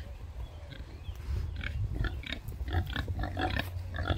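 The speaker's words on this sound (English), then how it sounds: "Oh, he's a pretty pig." A kunekune pig grunts repeatedly at close range, a steady run of low snuffling grunts over a constant low rumble.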